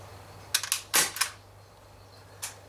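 An ASG MK 23 gas airsoft pistol loaded with 0.28 g BBs fires a few sharp, close pops in quick succession, followed by a fainter click, with no talk.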